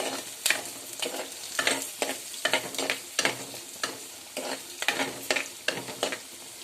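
Ivy gourd curry base sautéing in coconut oil, with a spoon stirring in regular scraping strokes over a steady, close sizzle.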